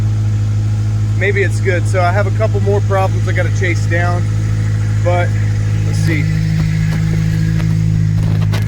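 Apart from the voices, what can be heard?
Honda D-series car engine idling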